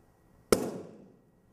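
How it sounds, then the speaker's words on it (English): A balloon popped with a lit match gives one sharp, loud bang that rings and fades over about half a second, with silence before it. "If we take a balloon and pop it with a lit match, we get an explosion."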